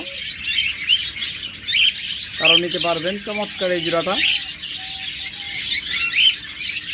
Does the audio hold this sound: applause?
no